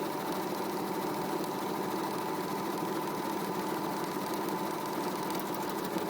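A Janome Sewist 500 sewing machine stitches a dense buttonhole with a steady, fast mechanical whir and needle chatter, running evenly and alone throughout.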